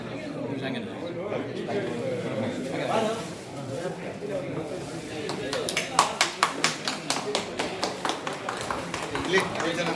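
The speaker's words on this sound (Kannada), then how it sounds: "ಚಪ್ಪಾಳೆ ಚಪ್ಪಾಳೆ" At an alumni batch felicitation event, voices talk and murmur first. Then a run of sharp, distinct claps starts, close and fairly loud, growing more regular under the talk.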